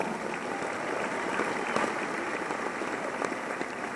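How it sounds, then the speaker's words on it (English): Seminar audience applauding, a steady wash of clapping hands at even volume throughout, with no voices. "So give yourself a huge round of applause for that as well"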